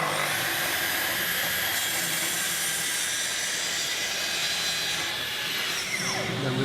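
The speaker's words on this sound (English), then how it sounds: "put your hand on the front of the saw, plunge until it hits your wrist at the right sort of depth, then make your cut" A plunge saw making a shallow scoring cut through a workpiece, a loud continuous whining hum with the blade's pitch shifting slightly as it travels, close and uninterrupted.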